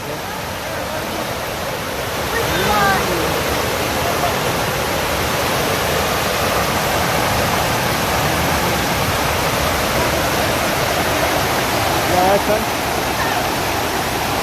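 Rushing water where several rivers converge at Fenton Falls in Williamsfield, Westmoreland, Jamaica, a steady broadband roar filling the whole clip with brief human voices faintly on top.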